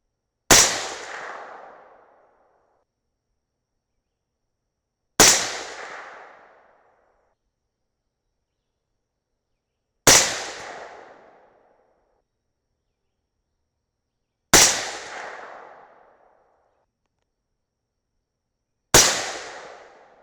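Five loud, sharp reports from a suppressed .308 Winchester rifle firing 175gr Sierra MatchKing handloads, each a crack with a short fading tail, spaced about five seconds apart with silence between.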